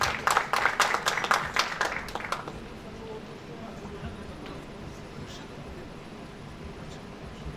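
Applause breaks out at a municipal event in Darıca as the mayor is invited to the podium, a burst of clapping from a small crowd that fades within a few seconds into a quiet, murmuring room.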